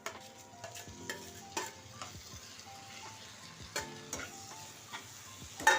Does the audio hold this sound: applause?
no